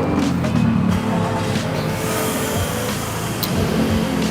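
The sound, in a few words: car engine being started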